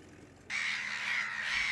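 Black-headed gulls at a breeding colony in a freshwater wetland give harsh, raucous cries. A faint murmur leads into a sudden, loud, continuous chorus of overlapping calls that lasts to the end.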